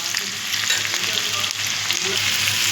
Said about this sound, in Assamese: কচু আৰু দালিখিনি ধুনীয়াকৈ ভাজি লৈছোঁ